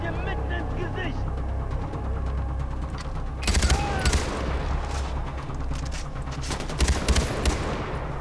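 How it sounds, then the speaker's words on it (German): Gunfire in Far Cry 4, with sustained bursts and a fusillade of shots, loudest in two clusters near the middle and toward the end, over a constant low game rumble. "Ich schieße dir mitten ins Gesicht."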